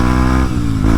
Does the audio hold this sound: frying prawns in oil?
no